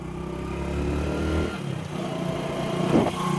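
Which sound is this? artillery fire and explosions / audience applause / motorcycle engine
motorcycle engine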